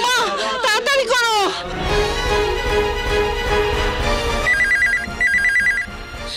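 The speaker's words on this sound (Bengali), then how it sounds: "ফোনটা ধরো।" A telephone rings with repeated electronic trill bursts in a Bengali film scene, sounding near and clear over background music after a stretch of voices.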